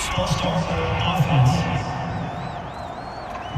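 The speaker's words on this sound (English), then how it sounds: "The crowd's not doing that O-line any favors." Home stadium crowd roaring at a football game between the Voyagers and the Elks, a dense steady wash of many voices with scattered whoops, loud and sustained throughout.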